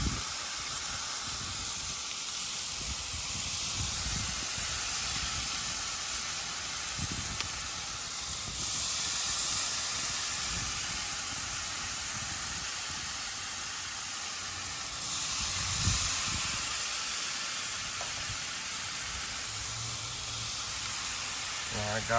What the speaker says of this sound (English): Hear that sizzle, guys?